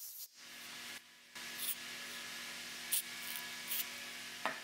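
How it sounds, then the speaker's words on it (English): Short hissing bursts of compressed air are blown into threads dribbled with thin super glue on a workbench, several spurts separated by quiet gaps, faint overall. "then I blasted it into the threads with compressed air"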